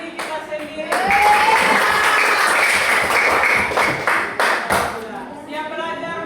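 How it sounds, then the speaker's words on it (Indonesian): A class of schoolchildren applauding themselves, a steady wash of close clapping lasting several seconds with children's voices mixed in, fading as a teacher begins speaking. "Tepuk tangan untuk kita punya diri kita sendiri."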